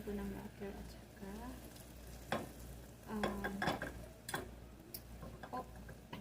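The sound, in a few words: mushrooms frying in butter and garlic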